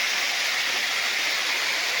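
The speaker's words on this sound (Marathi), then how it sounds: "हा बघा कशा प्रकारे छोटासा धबधबा आहे" A small village waterfall rushes steadily and close, a dense, even hiss of falling water spilling down toward a larger river, with no other sound over it.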